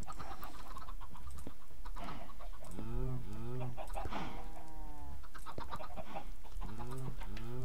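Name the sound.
chicken clucking in Minecraft video game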